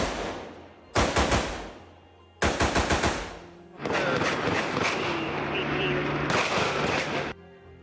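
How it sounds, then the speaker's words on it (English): Loud bursts of rapid rifle gunfire fired from an apartment complex rooftop in Marina Del Rey at night, two short volleys followed by a longer sustained stretch of shots, harsh and close. "he fired a rifle several times from the rooftop of an apartment complex"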